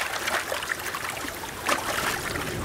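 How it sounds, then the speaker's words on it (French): River water trickles and splashes as men paddle a canoe across, with irregular soft swishes and a couple of stronger paddle strokes, close and fairly quiet, no voices. "Dans une pirogue, des hommes traversent une rivière à la rame."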